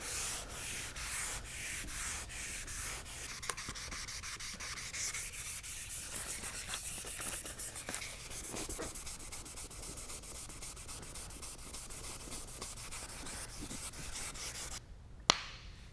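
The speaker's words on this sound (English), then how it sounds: "we want to keep the sanding block flat and just work it over the area" Steady, continuous rubbing scrape of a sanding block worked back and forth while wet sanding boat gel coat with 800-grit paper, close and even, with no voices.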